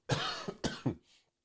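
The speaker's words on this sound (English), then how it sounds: "Now they got me coughing" A short burst of three or four harsh coughs in quick succession, close and fairly loud, then a faint breathy trail.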